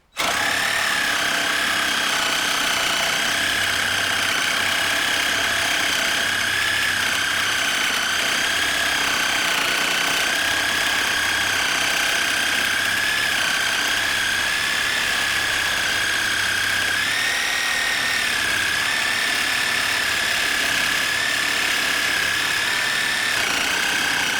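A DEWALT 20V MAX cordless reciprocating saw (DCS380B) cuts steadily through wood, a loud, continuous, buzzing motor and blade drone with a slight dip in pitch partway through, heard alone and close.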